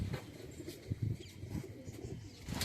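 Pigeons kept by a fancier in Amravati coo and stir close by, low soft throaty calls with a few wing flutters and faint chirps, quiet and intermittent.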